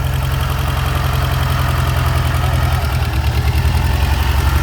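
Engine of a Shelby parked for 20 years idles with a noisy lash adjuster, a loud, close, steady rumble carrying a fast rhythmic ticking throughout.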